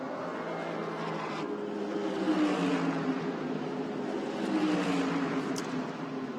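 A Mercedes GT race car rolls into the pits at Fuji during a Blancpain GT World Challenge Asia race, with a moderate engine drone and shifting pitch that rises and falls as it passes at mid distance.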